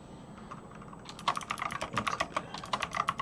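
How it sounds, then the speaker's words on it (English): Typing on a computer keyboard in an IRC chat client, a close burst of quick, uneven key clicks starting after a quiet moment and continuing steadily. "I'm just typing in internet relay chat here in Hex Chat"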